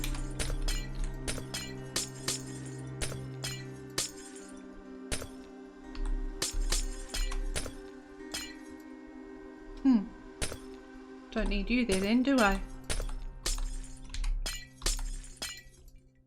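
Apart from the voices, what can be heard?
glass blocks breaking in Minecraft video game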